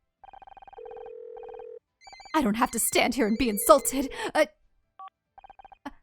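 In the Murder By Numbers video game, telephone touch-tone dialing beeps and a steady ringback tone play, then a voice speaks, followed by a few more short beeps.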